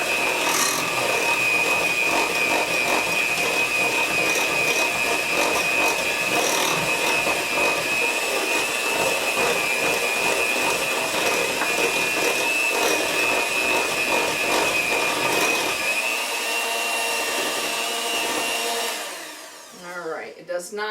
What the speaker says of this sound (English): I have my electric mixer, and I'm just going to put that on 1, and I'm just going to mix that together.